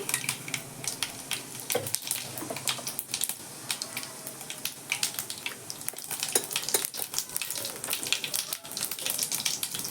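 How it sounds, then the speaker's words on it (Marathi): Mustard seeds and cumin hit hot oil for a Marathi-style mixed vegetable dish, giving a close, steady crackling sizzle with dense rapid pops throughout. "आता तेल तापलेलं आहे आधी मोहरी टाकून घेते आणि जिरे टाकते"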